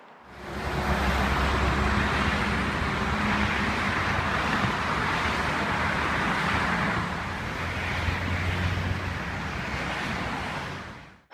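Cars pass on a road below a high vantage point, a continuous broad wash of traffic noise with gentle swells as vehicles go by, mixed with some wind, fairly distant and steady with no speech.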